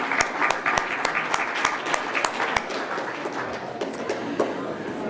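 Steady applause from a conference audience for the panel co-chairs, sustained clapping with some sharper individual claps standing out near the start.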